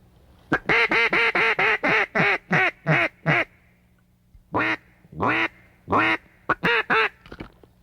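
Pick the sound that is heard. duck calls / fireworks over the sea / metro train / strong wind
duck calls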